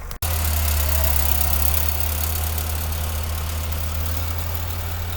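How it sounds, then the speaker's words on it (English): A tractor engine runs steadily and loudly up close while sowing oats and fertiliser, with a constant low rumble and vibration after a brief click at the start. "as you can see, we've got the tractor going there now, getting a really good spread of that fertiliser and seed"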